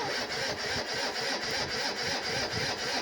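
A small TGB cargo scooter engine cranks and sputters in a rapid, pulsing rhythm, loud and close, without quite catching.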